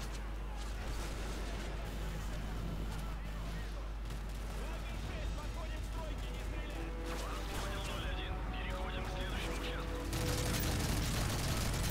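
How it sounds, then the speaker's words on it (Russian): Gunfire crackles in Call of Duty: Modern Warfare 3 during a battle at a diamond mine in Siberia, with a dense, continuous fusillade and explosions under game dialogue. "кто палит так знатно?"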